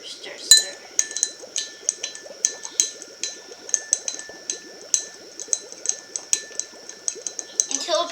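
A spoon stirs crystal powder into water in a glass, producing a rapid, rhythmic chinking against the sides with a bright ringing tone, continuous and close.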